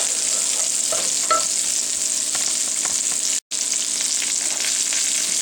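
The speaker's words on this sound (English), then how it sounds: "Just keep stirring it around for a few minutes." A flour and butter roux fries in a pan while a utensil stirs it. The sizzle is steady and close, with soft scraping strokes and one brief cutout, and nobody talks.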